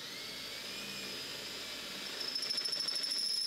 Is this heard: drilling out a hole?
yes